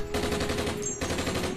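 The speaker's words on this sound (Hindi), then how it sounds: "कल सरहद पे गोली चली" A rapid burst of automatic gunfire rattles continuously, loud and close, with a brief break partway through before the shots resume.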